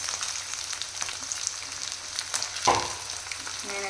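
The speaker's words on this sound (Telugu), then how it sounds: "ఎండుమిరపకాయలు అయితే వేస్తా ఉన్నాను." Dry red chillies fry in hot oil in a pan for beerakaya chutney, giving a steady close sizzle with a brief louder crackle partway through and no talk.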